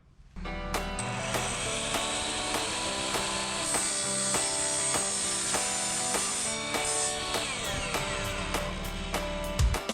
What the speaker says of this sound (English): We cut some aluminum bars here